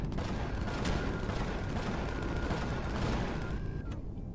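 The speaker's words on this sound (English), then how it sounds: "My guns are going nuts." Ship-mounted guns on a gun platform ship in Empyrion fire in a dense, continuous barrage, a steady roar of overlapping shots with a few sharper cracks and a thin tone running through it.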